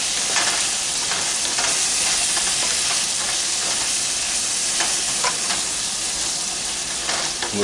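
Food sizzles steadily in a hot frying pan for a taco salad while a utensil stirs and scrapes it, the bright hiss close and constant with light clinks of stirring, no voices.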